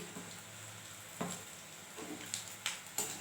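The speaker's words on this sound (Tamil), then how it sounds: "பாருங்க எண்ணெயில் எப்படி சொல்லுது" Banana flower bajji sizzles softly in hot oil, a faint steady frying hiss broken by a handful of small crackling pops near the end, with no talking.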